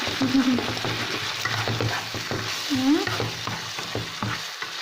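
Eggs frying in a pan while a home cook stirs them with a utensil, giving a steady close sizzle broken by clattering scrapes and stirring, with no voices.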